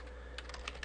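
Several faint, close keystrokes on a computer keyboard, a handful of soft clicks spaced irregularly over a low steady hum, with no voices.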